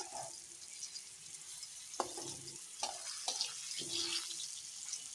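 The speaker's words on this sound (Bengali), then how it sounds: "আর একটু খাস্তা করে ভেজে নেব" Spices such as nuts, coriander, cumin, dried red chilli and whole poppy seeds frying crisp in a pan, with a steady soft sizzle and a few sharper clattering stirs and scrapes, close and moderately quiet.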